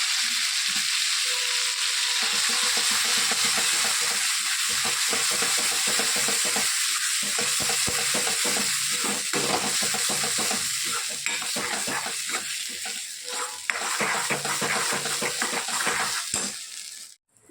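Chili, turmeric and spice paste frying in oil in a pan, a steady loud sizzle with repeated scraping and stirring clatter from a spoon throughout, no talk.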